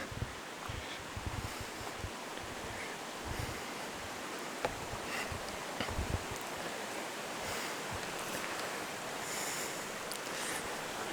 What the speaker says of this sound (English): Must be Neffs Creek, because it's a little small to be a river